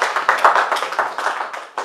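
A church congregation claps in quick, rhythmic unison, the close, bright hand claps running steadily without a pause and no voices over them.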